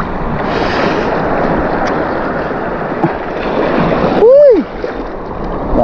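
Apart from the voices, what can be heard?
waves hitting a small fishing boat at sea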